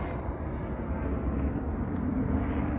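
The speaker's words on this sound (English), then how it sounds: "and of course a helicopter going by." Helicopter flying over Mexico City, heard as a steady, distant whooshing rotor and engine drone with no talk, holding level throughout.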